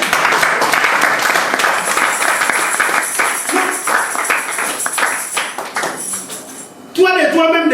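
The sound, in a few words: congregation applauding to acclaim Jesus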